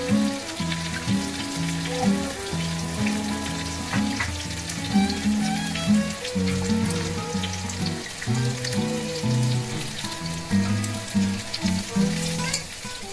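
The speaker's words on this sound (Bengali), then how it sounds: "গরম মশলা আমি দিয়ে ফোড়ন দিয়ে দেবো" Garam masala being tempered in hot oil for a mutton curry, giving a busy crackling sizzle with tonal clatter and scraping throughout, moderately loud.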